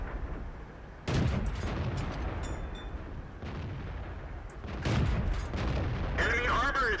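Heavy tank cannon fire and shell impacts in World of Tanks boom out in several separate blasts, loud and close, with a sharp clang near the end and game voice chatter between shots.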